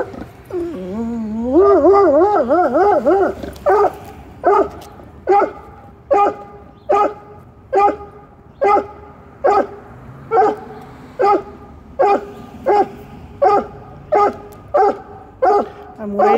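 A dog whimpers and yips at first, then settles into steady, evenly spaced barks, about one each second, fairly close and loud, with no talking over them.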